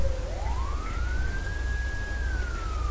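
A police car siren in the video game GTA 5 sweeps up and holds a steady wail, then slowly drops in pitch, heard alone over a low engine rumble.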